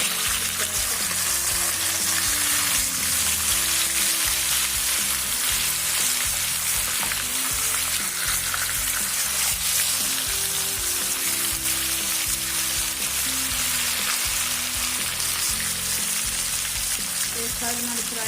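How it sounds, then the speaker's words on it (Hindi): Marinated masala fish fries in a pan with a continuous, dense sizzle and spattering crackle that holds steady and close for the whole stretch. "हमारी एक साइड जो है फ्राई हो चुकी है। अब हम दूसरी साइड चेंज कर लेते हैं।"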